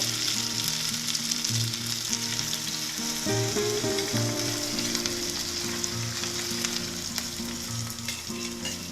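Masala for a green bean and potato curry sizzles steadily in hot oil, a loud continuous frying crackle with a few soft clinks of stirring and no voices.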